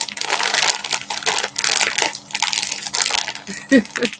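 Crinkly Christmas wrapping is handled close up, a dense, continuous crackling and rustling that rises and falls in waves, with a brief low thump near the end.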